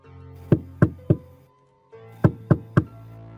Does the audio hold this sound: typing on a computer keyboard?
no